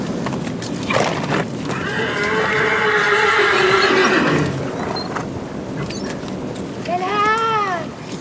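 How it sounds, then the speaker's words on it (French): A frightened horse bolts through a forest after lightning strikes nearby, its long, loud whinnies rising and falling close at hand, with a second shrill neigh toward the end over a rumbling background. "Son cheval prend peur et s'emballe."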